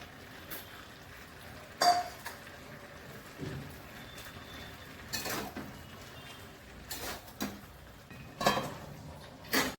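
Fried shrimp being tipped into a pan of Malabar spinach and green chilies for a shrimp and pumpkin curry, stirred with scattered metallic clinks and scrapes over a quiet kitchen background.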